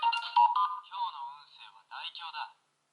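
A DX Spider toy phone rings with an electronic, warbling two-tone chirp. It comes in a few quick bursts over about two and a half seconds, close and fairly loud, then stops.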